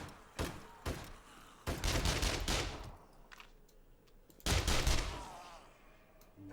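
Gunfire from shooting zombies in a survival horror video game: a few sharp separate shots early, then heavier bursts around two seconds and again near five seconds, loud and close, with quiet stretches between.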